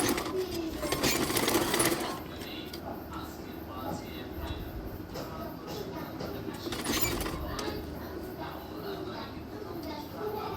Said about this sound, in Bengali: তো এখন এই যেভাবে এর উপর দিয়ে আমি সেলাইটা দিয়ে নিচ্ছি